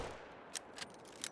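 Rifle shots in a deer hunting video game: three short, sharp cracks spaced across a second and a half over a quiet ambient background, moderately loud and with no talk.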